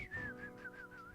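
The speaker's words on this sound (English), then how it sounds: "Give him a whistle." A faint, steady whistle tone with a slight wavering pitch, heard alone in a live day-trading stream setting.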